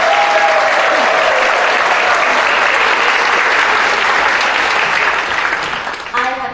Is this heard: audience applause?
yes